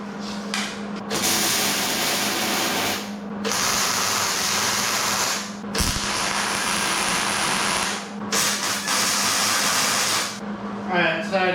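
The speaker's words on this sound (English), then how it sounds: "make my first tack weld" Tack welding on a flatbed build: a loud, steady crackling arc hiss in several long bursts separated by short pauses, heard close up without talk.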